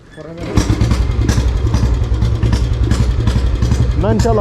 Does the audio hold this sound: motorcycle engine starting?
yes